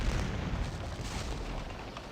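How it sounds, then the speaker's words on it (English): Low, rumbling booms of artillery fire in a Napoleonic Waterloo battle game, a continuous dull roll of distant cannon heard faintly throughout. "I do have some artillery, hopefully firing into these guys' flank"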